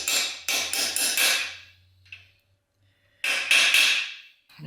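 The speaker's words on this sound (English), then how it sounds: "Now I'll go ahead and drive that plug in." A plug being driven into a 4L80E transmission case with a hammer, a burst of rapid sharp metallic blows, a pause, then another quick cluster of loud ringing strikes up close.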